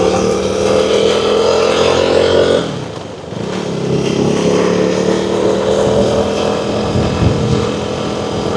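KTM Duke 390 motorcycle engine revving and pulling hard close by, dipping briefly as it brakes and shifts for a turn, then surging again with throttle and steady wind rush.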